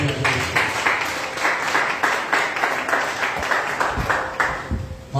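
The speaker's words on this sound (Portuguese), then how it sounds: "Dê uma salva de palmas para Jesus." A church congregation applauding Jesus during a Portuguese-language evening worship service, rhythmic group clapping, fairly loud and close, with a few voices calling out under the claps.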